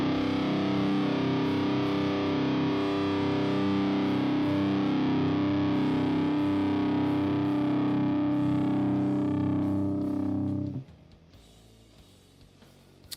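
Electric guitar run through a Laboga Chainsaw HM2-style heavy metal distortion plugin, a loud, thick fuzzy sustained chord ringing for about ten seconds before cutting off abruptly into near silence.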